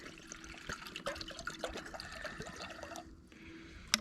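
Water being poured at a lakeside campsite to boil for mashed potatoes, a soft, faint trickling and splashing with small drips and a brief clink near the end.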